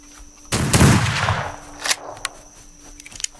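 A single loud gunshot from a Roblox Wild West game cracks out near the start, followed by a decaying rumble and a few light clicks and taps before quiet.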